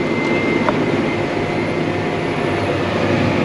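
A tractor pulling a disk across a field at about 9 mph in 13th gear, its engine a loud, steady, unbroken drone with low rumble throughout and no voices.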